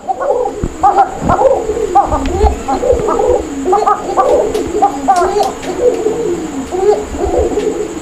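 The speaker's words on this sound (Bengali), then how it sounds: "এই কবুতরটা দেখতে যতটা সুন্দর, ডাকটাও কিন্তু তার চেয়ে আরও সুন্দর" Repeated low, throaty cooing of a Golla pigeon close by, rolling phrases one after another, with a faint high whine in the background.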